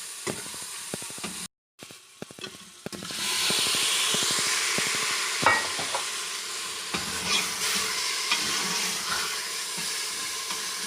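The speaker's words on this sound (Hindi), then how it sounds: "चार से 5 मिनट हम गोश्त को भूनेंगे, फ्राई करेंगे अदरक लहसुन के साथ।" Beef chunks fry with ginger garlic paste for hareesa, producing a loud, close sizzle and hiss with frequent scraping stirs, building after a brief gap early on and continuing without talk.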